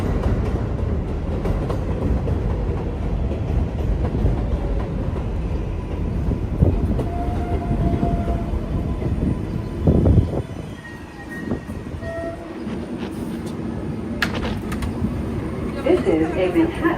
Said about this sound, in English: The train came early.